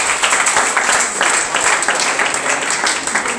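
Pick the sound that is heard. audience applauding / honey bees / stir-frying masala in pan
audience applauding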